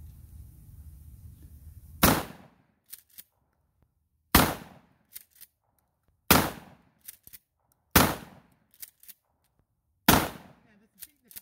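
Five loud, sharp gunshots fired at a dead tree outdoors, spaced roughly two seconds apart, each followed by brief faint clatter; no talk over the shots.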